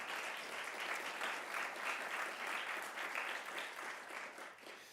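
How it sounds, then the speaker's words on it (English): An audience at a history conference applauds steadily, a dense wash of many hands clapping throughout, moderately distant and even in level. "So I think they all are owed a round of applause for the work that they've done."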